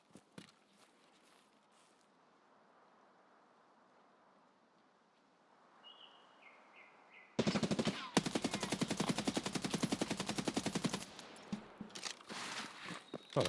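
Video game gunfire in a multiplayer shooter: after a quiet stretch of faint ambience and footsteps, a loud rapid burst of automatic fire hammers for several seconds, followed by scattered closer shots and impacts.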